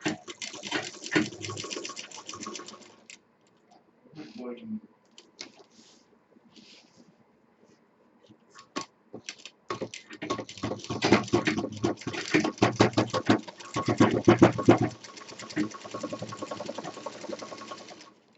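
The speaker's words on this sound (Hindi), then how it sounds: "इस पर हमें कई बार मशीन चलानी होगी" Sewing machine stitching a fabric handbag handle, running in repeated bursts of rapid needle patter with short pauses between, close and moderately loud, no talking.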